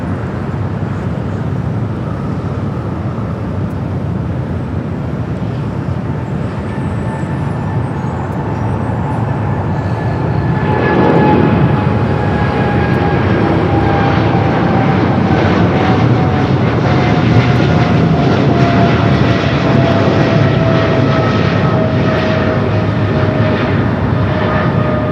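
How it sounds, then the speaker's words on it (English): A Boeing 777 freighter rolls for takeoff on runway 25 right at Los Angeles airport, its distant engine rumble swelling midway into a louder sustained roar with a whining tone gliding downward. "The 777 freighter now rolling on the 25 right"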